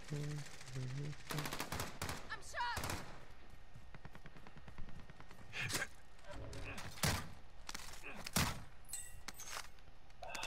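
Video game gunfire crackles in rapid automatic bursts and scattered single shots across the whole stretch, loud and close, with voices sometimes talking over it.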